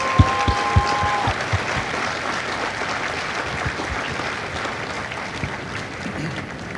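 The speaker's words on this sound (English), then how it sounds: "Please join me in a well-deserved round of applause for the drill instructors and families of Charlie Company." Applause from the audience at a Marine Corps recruit graduation for Charlie Company at MCRD San Diego, a steady wash of many hands clapping that holds for several seconds, with a faint tonal note near the start.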